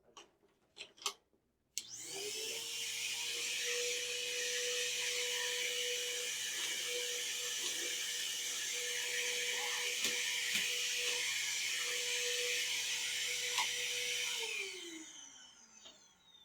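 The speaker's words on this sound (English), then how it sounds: "I'm just going to vacuum" A vacuum cleaner switches on after a few clicks, runs with a steady loud whine and roar, then powers down at the end.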